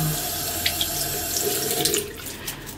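Tap water runs steadily into a sink, wetting a scrubbing brush alongside hemp soap for handwashing, a close continuous splashing flow with a few small knocks and drips as the brush moves under the stream.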